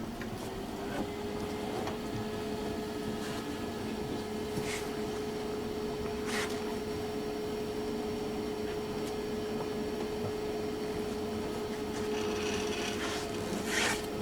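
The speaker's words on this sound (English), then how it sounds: "we have an oscillating knife tool. Okay, let's start off this job for just a moment." A Kongsberg cutting table runs its oscillating knife tool through material, a continuous rasping, buzzing hum with a steady motor whine, broken by a few brief scraping bursts throughout.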